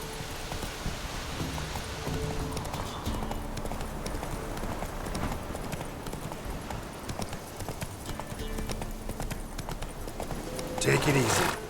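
Horse hooves gallop in rapid, steady clip-clop rhythm across the whole span in The Witcher 3 video game, loud and close, with a voice speaking briefly over the hoofbeats.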